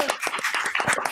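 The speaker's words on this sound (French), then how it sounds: "On t'applaudit fort et on t'encourage." Audience applause at a comedy club show, a brief burst of close, rapid clapping from a small crowd.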